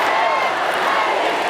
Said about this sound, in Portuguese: ouviu vaias e gritos de sem anistia